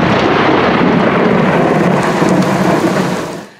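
Loud thunder from a nearby positive lightning strike rumbles continuously over a heavy downpour at a roadside rest area near Landau an der Isar, then fades out at the end.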